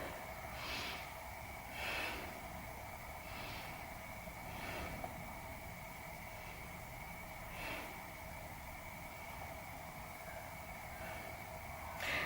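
Slow, deep breaths during a beginner yoga chest stretch, drawn out in soft, airy swells every second or two over a steady background drone, with no talking.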